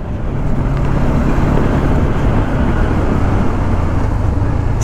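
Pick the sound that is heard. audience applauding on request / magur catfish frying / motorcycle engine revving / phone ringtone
motorcycle engine revving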